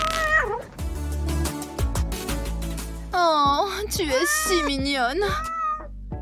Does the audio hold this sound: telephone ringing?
no